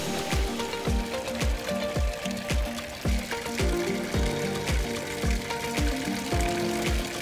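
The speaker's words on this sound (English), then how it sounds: "I love the sound of running water" A garden water feature beside a dining terrace sends water splashing and trickling continuously, with repeated rhythmic drips and plops over a steady close wash of running water, no voices.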